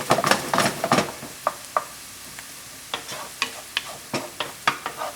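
Onions sizzling in a pan while being stirred for a paleo pesto pasta, irregular scraping strokes and clatters of the utensil over a soft frying hiss, close and clear with no talking.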